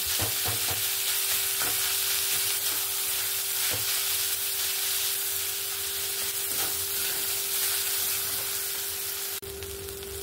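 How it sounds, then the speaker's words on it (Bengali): Fish pieces fry with spices in a hot pan for fish cutlets, giving a steady, close sizzle with a constant hiss and faint stirring scrapes throughout. "এখানে দেখুন আমি মাছটাকে মশলার সঙ্গে 1 থেকে 2 মিনিটের মতন ভেজে নিয়েছি।"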